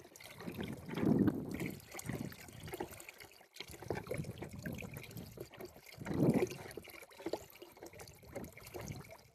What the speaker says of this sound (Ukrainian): Тоді ми вливаємо тонкою струйкою наш розчин мідного купоросу і все перемішуємо.